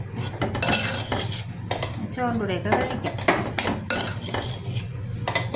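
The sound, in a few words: stirring papaya thoran in a pan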